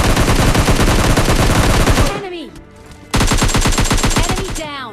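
Rapid automatic gunfire rattles loudly in PUBG Lite, a dense burst for two seconds, a brief lull, then another sustained volley, with faint talk underneath.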